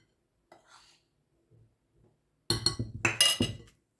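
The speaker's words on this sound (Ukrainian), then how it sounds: "Спочатку так виделкою розмішаю, а потім вже буду руками вимішувати тісто." A few faint taps early on, then a burst of loud clinking and scraping of a metal fork against a bowl while mixing dough, brisk and close.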